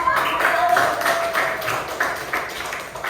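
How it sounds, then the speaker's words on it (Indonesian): Schoolchildren in a classroom coding lesson clap for a group in a steady, rhythmic unison beat, several evenly spaced claps fading slightly toward the end. "Berarti beri tepuk tangan."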